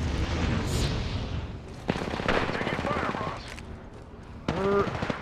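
Bursts of automatic gunfire and impacts in a battle royale shooter video game, with a character playing Rampart, crackling over game sounds while players talk.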